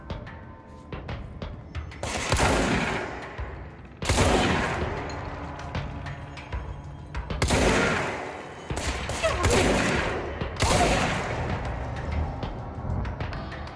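Gunfire in the video game Control, with bursts of shots and heavy impacts recurring every couple of seconds, loud and close across the whole stretch.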